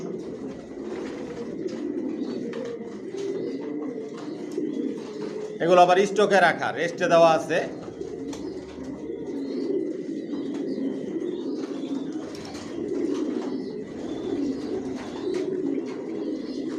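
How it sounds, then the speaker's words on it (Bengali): Racing pigeons kept as breeding pairs in a loft, cooing and murmuring softly throughout, with a brief burst of louder calls or wing flutter midway; someone talks over the birds. "এখানে যে কবুতরগুলো দেখতেছেন এগুলো আমার মাস্টার পেয়ার, রানিং পেয়ার"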